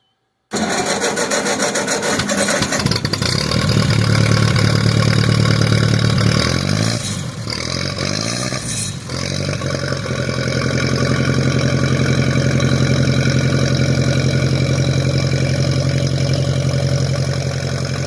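A small tractor engine with a flapper-capped exhaust cranks and catches, then idles loud and close with a steady chugging throb, dipping briefly mid-run before settling back into an even idle.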